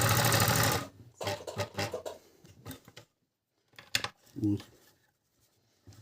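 A Kenmore 158 sewing machine stitching through leather, a dense mechanical whir for about a second, then short bursts of stitching and handling noises with pauses.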